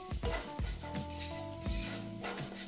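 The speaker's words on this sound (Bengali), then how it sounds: "এটাকে এভাবে একটু ভেজে নিচ্ছি" A small amount of oil fries food in a pan, making a light sizzle with occasional stirring clatter, partly under prominent background music.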